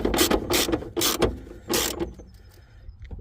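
A ratchet fitted with a 13mm socket tightens the battery bolt on a BMW 1 Series F20 LCI, giving several loud, close bursts of rapid clicking separated by short pauses, then quieter scattered clicks.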